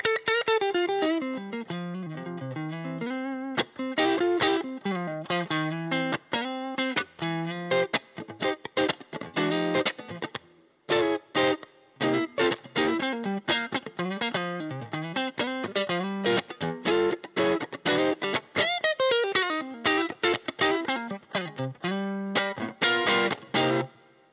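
A heavily distorted electric guitar runs through a Hughes & Kettner Tubemeister 5 amp, playing loud, driving palm-muted riffs and chopped chord stabs with sliding bends, close and continuous, with no talking.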